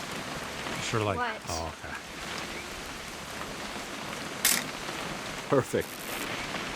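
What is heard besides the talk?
rain falling in the video game What Remains of Edith Finch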